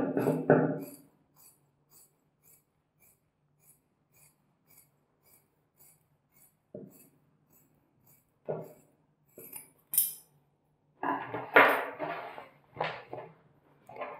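Scissors cutting trouser fabric during a knee-to-hem taper alteration: a quiet run of soft, regular snips, followed by louder handling rustles and clinks near the end, close and without talk.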